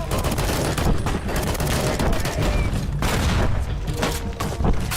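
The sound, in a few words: gunfire from the video game Fallout New Vegas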